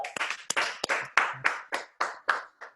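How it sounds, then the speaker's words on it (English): Sparse claps from a small audience at a real estate talk, about ten distinct, close hand claps landing in a loose, fairly regular rhythm over nearly three seconds. "Come on, y'all, give this man a round of applause."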